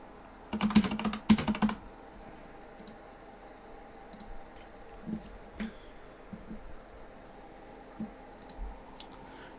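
Clacking keystrokes on a computer keyboard while working in Roblox Studio, a dense burst of rapid typing at the start followed by sparse isolated clicks, close and moderately loud.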